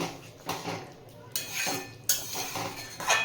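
Soybean kofta curry being stirred in a pan, a spoon scraping and clinking against the metal in several distinct strokes, close and fairly quiet.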